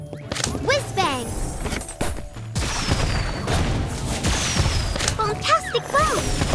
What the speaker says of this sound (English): Whiz-Bang.